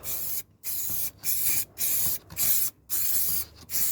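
Short bursts of aerosol wax spray, about seven hissing sprays separated by brief gaps, close and fairly loud, with no voices.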